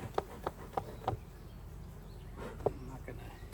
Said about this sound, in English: Definitely see there's lots of bee activity in there.